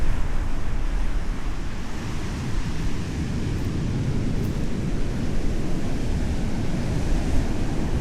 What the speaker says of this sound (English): I got a little break from the high tide from where the water's pushing all the way up to the dunes